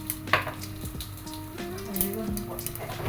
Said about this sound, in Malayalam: വെളിച്ചെണ്ണ നന്നായിട്ട് ചൂടായിട്ട് വരുമ്പം നമുക്ക് വെളിച്ചെണ്ണയിലേക്ക് കുറച്ച് കടുക് ഇടുക.